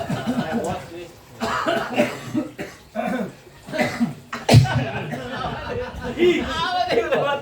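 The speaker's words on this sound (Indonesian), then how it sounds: "Tiba-tiba pada batuk ya." Scattered coughs from several people break out among murmured talk and a little laughter during an Islamic study gathering, one sharp cough standing out midway.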